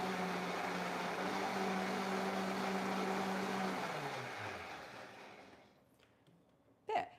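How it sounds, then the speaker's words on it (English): A blender whirring as it froths a matcha drink made from ground tea leaves, a steady loud motor hum that winds down and fades out, followed by a brief clunk near the end. "I just put this on the blender"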